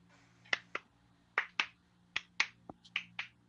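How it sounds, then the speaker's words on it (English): Hands clap in a rhythmic pattern, about a dozen sharp, close claps in quick pairs and short groupings against a quiet room hum. "I clap my hands at like in a sort of rhythmic tone"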